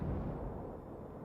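A cannon fires during a naval battle in a video game, a loud, low booming blast that fills the whole moment with a dense rumble.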